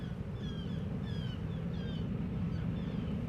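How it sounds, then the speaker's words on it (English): An approaching ship's engine sends up a steady low rumble that fills the whole stretch, with faint bird chirps and calls scattered above it. "Sounds like an engine. Glared Guysborough. Might be a ship coming."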